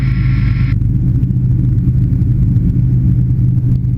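A microlight aircraft engine drones steadily in flight with the throttle pulled fully back, a loud continuous low rumble that stays even throughout.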